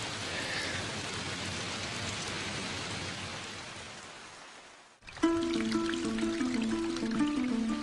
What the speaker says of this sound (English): It's proper tropical rain,